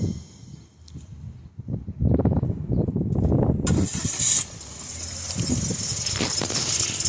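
A car engine starts up close by, with cranking and rattles giving way to a steady, loud idle with a hiss, with no voices heard.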